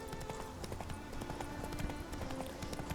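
Horse hooves clip-clopping in The Witcher 3: Wild Hunt, a quick, steady run of close hoof clops over a busy game background, with no talk.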